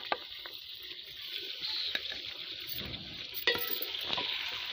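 Garlic, tomato and chillies fry in a pan with a soft sizzle while a spoon stirs and clinks against the metal a few times, fairly quiet and close, with no talking.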